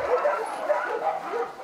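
Dog at an animal shelter making high yips and whimpering barks, several short calls under continuous talking, moderately near.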